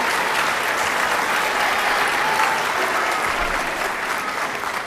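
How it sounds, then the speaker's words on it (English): A board of education meeting audience applauds for Odyssey of the Mind team members, a sustained, even wash of many hands clapping that holds steady at a fairly loud level throughout. "Please give them a round of applause, please."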